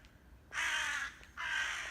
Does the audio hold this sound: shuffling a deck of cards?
no